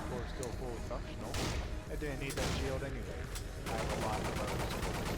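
Gunfire in the horror shooter Nightmare House, several sharp shots and short bursts ringing out over the game's ambient noise, with a player talking excitedly across them.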